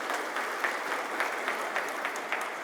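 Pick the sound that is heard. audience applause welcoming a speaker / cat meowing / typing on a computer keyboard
audience applause welcoming a speaker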